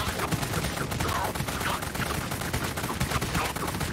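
Rifle fire in the zombie shooter Dead Frontier, a dense continuous stream of rapid shots, loud and close, with no pauses.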